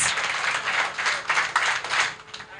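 Crowd at a women's empowerment gathering claps together, a dense burst of applause with several stronger synchronized claps rising out of it, steady and fairly loud with no talk over it.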